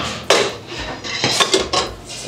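Chopsticks and a spoon clink and tap against dishes in a few sharp, close knocks with short pauses between them, heard alone without talk.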